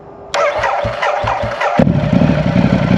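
A Ducati Diavel with an Akrapovic exhaust fires up on a dyno with a sputtering burble, then settles into a loud, deep exhaust rumble that builds slightly.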